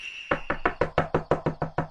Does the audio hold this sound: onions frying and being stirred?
no